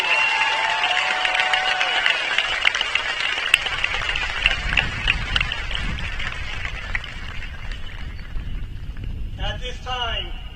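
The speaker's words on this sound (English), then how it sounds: "How about one more round of applause for the class of" Loud applause and cheering from a large audience at a senior high school graduation ceremony for the class of 2024, a dense sustained wash of clapping with crowd voices that gradually thins toward the end.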